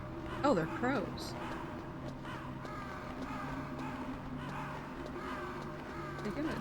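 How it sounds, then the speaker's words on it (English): Crows caw repeatedly in the Metal Gear Solid video game, with sharp calls standing out early and fainter caws continuing over a steady low in-game ambient hum. "Oh, they're crows."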